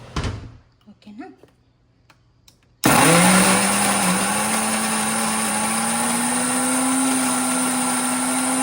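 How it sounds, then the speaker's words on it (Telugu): A kitchen mixie grinds chutney. After a few soft knocks and thuds, the motor kicks in abruptly and runs as a loud, steady whirring roar until the end. "పచ్చడి కూడా మిక్సీకి వేసేసి ఎలా వచ్చిందో చూద్దాం"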